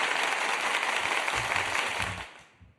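An audience claps and cheers at a live advocacy event. The applause is a dense, steady crackle that carries on, then thins and fades out near the end.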